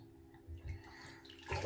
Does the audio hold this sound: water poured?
yes